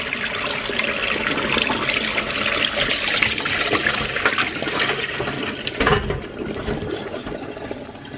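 Gherkins and water tipped out of a bowl into a colander during pickling prep, a steady rushing pour of liquid that runs for several seconds, close and fairly loud, ending in a brief splashy slosh.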